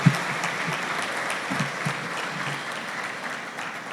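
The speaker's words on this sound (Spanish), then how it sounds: "les pido nuevamente un fuerte aplauso a todas ellas" Applause from an audience at a law conference on artificial intelligence in criminal law fills nearly four seconds, steady and moderately loud, with a few sharper claps at the start.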